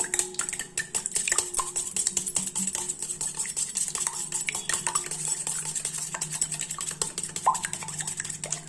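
Eggs with a pinch of salt being beaten in a bowl for egg chapati, a steady run of quick clinking strokes against the bowl, close and continuous with no talk.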